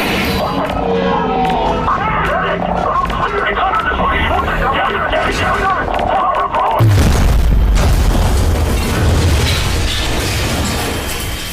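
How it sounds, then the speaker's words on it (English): A loud explosion booms partway through in the virtual reality game Half-Life: Alyx, a deep sudden blast with a rumbling tail following a stretch of game sounds and voices. "It was an explosion"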